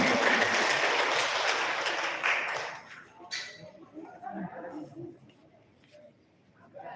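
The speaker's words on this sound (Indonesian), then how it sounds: "Tepuk tangan untuk kita semuanya." Applause at a cooperative's annual members' meeting in Jombang, a dense wash of clapping from a crowd for about two seconds before it fades out, followed by talk and room noise.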